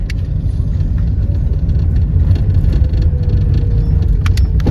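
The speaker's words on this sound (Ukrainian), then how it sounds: "Ось нас їдемо, проїжджаємо" Car driving along a road past a sunflower field near an apiary, its engine a steady mid-low rumble close by, with continuous road and wind noise and no talking.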